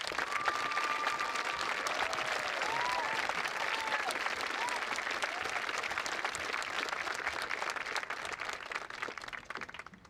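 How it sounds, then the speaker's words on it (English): A crowd applauds graduates at a high school graduation ceremony, continuous dense clapping with some voices and cheers mixed in, sustained for the whole stretch before tapering near the end. "Let's give the graduates a round of applause."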